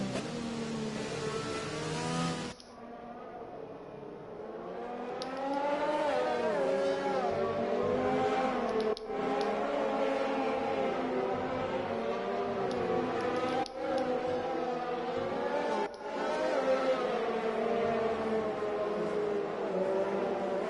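Race cars starting a wet-weather sim racing event on intermediate tyres, several engines droning and revving together in a steady rising-and-falling whine that runs the whole stretch, no voices.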